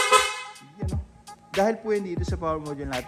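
A Yamaha NMAX 155 scooter's Denso horn blares in a short, strong burst with the engine switched off, followed by someone talking in Filipino.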